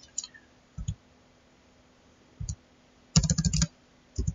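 Computer mouse clicks during desktop mapping software work, a few short sharp clicks scattered across a quiet background, with one quick flurry of clicks near the end.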